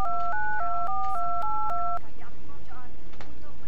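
A rapid series of phone keypad dialing tones, about eight short beeps in quick succession, followed by quieter background noise, in a 3D animated horror short.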